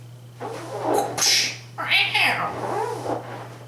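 A cat lets out a couple of loud, drawn-out yowls, wailing up and down in pitch over a low electrical hum.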